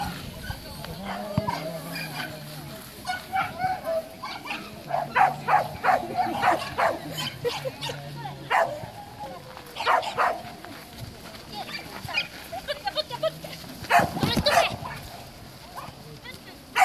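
A dog barks and yips in scattered bursts at a dog agility competition, partly far off, while an announcer talks over a public address system.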